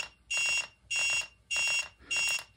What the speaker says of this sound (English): That's the ribbon cable alarm.